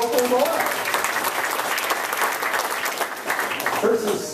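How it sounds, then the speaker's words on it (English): Town hall audience in Stayton applauding steadily for several seconds, a dense close clapping wash with voices and cheers mixed in over it. "How about a round of applause for Fritz, the local voice?"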